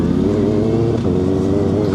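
Steady, loud engine drone of a Kawasaki ZX6R sport motorcycle cruising on the road, a continuous low-pitched hum with wind noise throughout, no speech.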